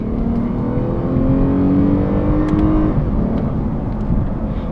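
Engine of a 2015 Lexus RC350 F Sport pulls hard through the gears on paddle shifts, its pitch climbing steadily before a quick shift drops it back, heard from inside the car.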